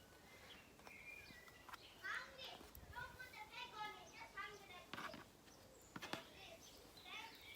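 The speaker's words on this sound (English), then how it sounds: "oh, I can hear the neighbours' kids playing" Neighbours' children play outside at a distance, their faint shrieks and chatter drifting in with occasional bird chirps and a few sharp clicks nearby.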